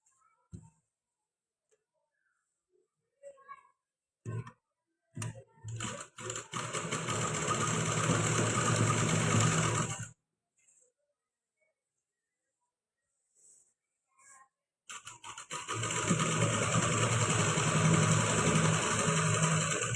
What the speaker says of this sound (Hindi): इस साइड से सिलाई लगा देनी है।